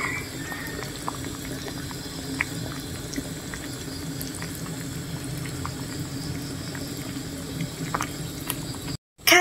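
A pot of herbal fat-reducing drink simmers on the stove, bubbling steadily with soft pops and gurgles throughout, then cuts off briefly near the end.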